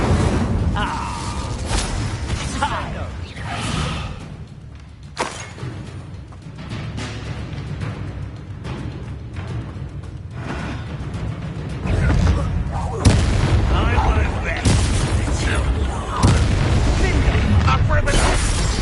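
A fiery Incendio spell bursts in combat in the Hogwarts Legacy video game, with booming, explosive blasts and rumbling impacts over a steady, loud mix of game sounds.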